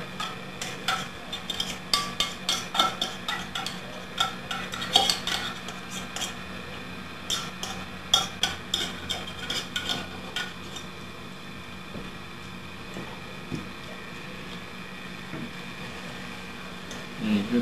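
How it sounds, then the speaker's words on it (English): Canned tuna in oil broken up in a bowl with a utensil, soft repeated scraping and tapping clicks at close range over a quiet background, thinning out toward the end. "just sort of break it up a little bit so that you don't get big chunks of tuna fish"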